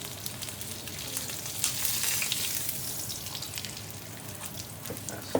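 Pieces of beef fry in a pan with a dense, loud, crackling sizzle that holds steady throughout, with occasional sharper spits and a slight swell in the middle, and nobody speaking.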